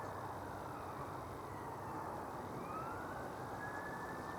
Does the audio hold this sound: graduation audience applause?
no